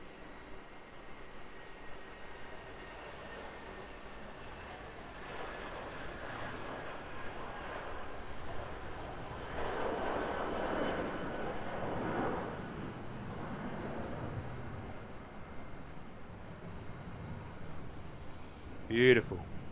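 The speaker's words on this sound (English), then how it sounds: "NZ555 rocketing down the runway here." Passenger jet NZ555 taking off down the runway, a distant broad engine roar swelling to a peak midway and slowly fading, steady and fairly faint, with people talking over it.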